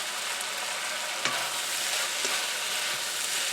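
Cabbage and carrots stir-fried in a few tablespoons of vegetable oil for chicken chow mein give a steady, close sizzle, with a couple of sharp scrapes and clicks as the vegetables are tossed. No one speaks.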